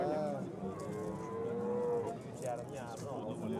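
Cattle moo repeatedly at a busy cow market in Andijan, with long drawn-out calls rising and falling over a steady crowd murmur and scattered faint voices.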